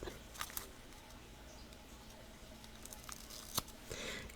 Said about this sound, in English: So for that, I'm going to be using the big tonic scissors.